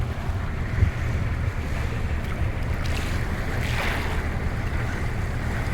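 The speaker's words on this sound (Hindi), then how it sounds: "बाहर बहुत ज़्यादा ठंडी हवाएं चल रही हैं।" Cold wind blows steadily outdoors near the sea on a cruise between Denmark and Norway, a continuous broad rush with low rumble and faint surf, no voices.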